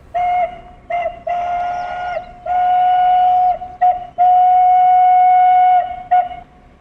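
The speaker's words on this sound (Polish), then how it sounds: "I ten głośnik chyba ma dźwięk udawać gwizdka właśnie z pary" A loudspeaker on a water tower plays a recorded steam whistle, a loud steady tone sounded in a series of short toots and long held blasts with brief gaps between them.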